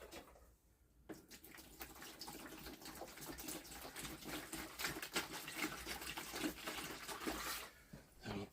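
Water streams steadily into a container with a continuous splashing hiss, quiet and close, after a brief silent start.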